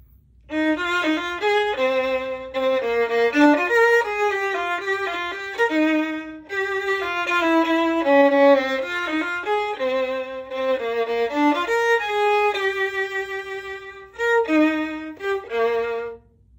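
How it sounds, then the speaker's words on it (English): A violin played arco with the bow gives a sustained, singing melody with smooth connected notes, clear and close, pausing briefly before continuing. "So that's what arco sounds like."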